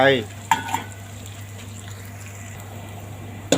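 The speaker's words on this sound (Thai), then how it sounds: "ส่นน้ำมันแล้วก็ผัดพริกกระเทียมให้หอมเลยนะทุกคน" Chili and garlic stir-fry in a little oil, giving a steady soft sizzle with a few sharp scrapes of a spatula or utensil against the pan at the start and end.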